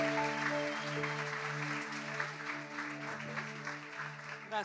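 Audience applause at a church gathering welcoming a pastor, sustained clapping over a held musical tone or organ chord, steady and moderately loud, easing slightly toward the end.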